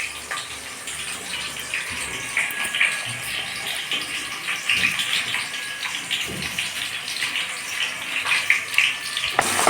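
Okra being rinsed in water in a home kitchen makes a continuous splashing, running-water gush from a tap, fluctuating in loudness throughout with no talk.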